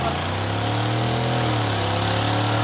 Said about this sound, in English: Let's see the burnout.